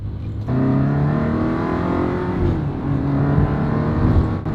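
A Ferrari 360 Spider's engine revs loud and close inside a tunnel, a sharp rise at the start settling into a sustained, echoing high-pitched drone with harmonic whine and slight shifts in pitch.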